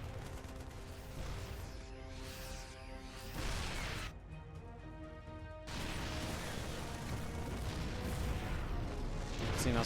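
Stalkers and Terran bio units trade fire in a StarCraft 2 battle, a dense, continuous din of gunfire, blasts and crashing impacts layered over game music.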